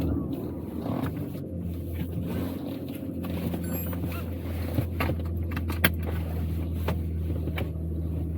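Deep, steady low rumble of an Aston Martin DB9's V12 engine, heard from inside the car while driving in Auckland, constant and droning with a few faint clicks and rattles over it.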